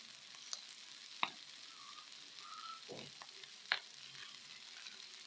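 Sisig frying in a pan, a soft steady sizzle broken by a few sharp scrapes and clacks of stirring, heard close with no talk.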